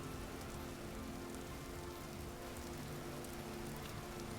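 Rain falls steadily in the Vintage Story video game, a soft, continuous hiss of drops with no breaks, fairly quiet and with nothing else over it.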